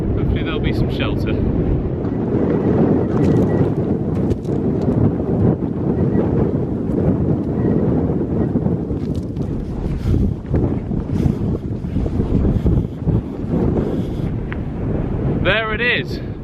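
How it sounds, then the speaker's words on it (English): Strong wind buffets the microphone on an exposed mountain ridge near a tarn, a steady loud roar with gusting rumble filling the whole stretch, and a person briefly speaks under it. "I hope this wind breaks up though."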